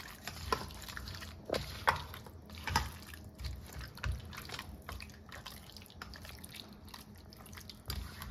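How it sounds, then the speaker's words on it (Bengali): Mutton is washed in warm water, giving quiet, irregular splashes, drips and sloshes close by with a soft background hiss and no talking. "নিয়ে একটু গরম জলে পরিষ্কার করে ধুয়ে নেব।"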